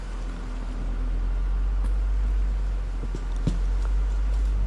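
An off-road vehicle crawls up and over a rock with a steady low engine rumble, plus scattered knocks and scrapes of tires on stone.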